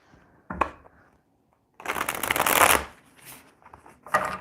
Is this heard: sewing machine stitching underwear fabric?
no